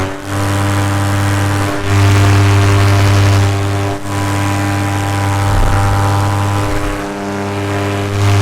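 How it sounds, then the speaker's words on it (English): A Cessna light aircraft on a training flight drones overhead, heard as a loud, steady propeller and engine hum from an airborne paramotor, with no talk. "There's a Cessna doing some flight training."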